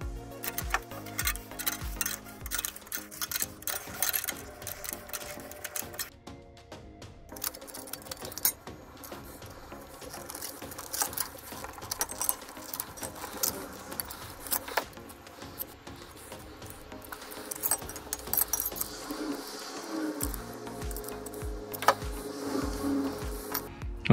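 Tin snips cut sheet metal for a car patch panel, giving a steady run of crisp clicking snips and metallic crunches that repeat throughout at close range, with a short pause partway through.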